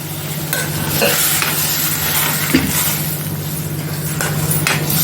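A thick spice paste for black pea curry sizzles in a hot pan while a spoon stirs and scrapes it. A low, steady hum runs underneath.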